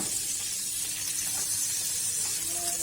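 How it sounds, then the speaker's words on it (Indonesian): Goat meat sizzles as it fries in Blue Band margarine, a steady close hiss with crackling spatter running evenly throughout without any talk. "Kambingnya digoreng pakai blue band seperti ini ya guys"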